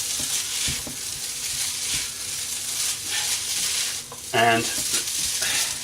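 Breakfast fried rice (chǎofàn) stirred in a hot pan gives a continuous bright sizzle with soft scraping stirs and a few clinks of the utensil, while a voice says a single word.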